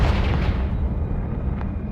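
The Confringo blasting spell going off in Hogwarts Legacy: a heavy, rumbling explosion already underway, its deep roar gradually fading with a thin lingering ring and a faint crackle near the end.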